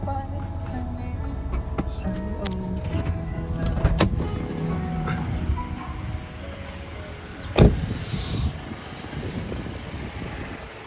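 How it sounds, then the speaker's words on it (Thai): A 2013 Toyota Corolla Altis G automatic idles steadily with a low engine hum, broken by a few clicks and a sharp knock partway through. "ไป ฟังเสียงเครื่องกันครับ"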